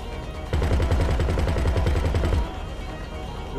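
A burst of rapid automatic gunfire in GTA 5 Online rattles steadily for about two seconds, loud and close, then stops, leaving a low background hum.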